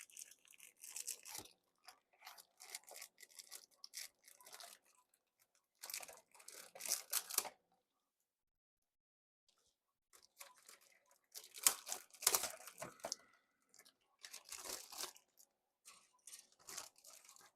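Plastic bags holding scale model kit parts for an A-10A are torn open and crinkled close by. The bursts of crackling and ripping come in irregular clusters with near-silent gaps between them.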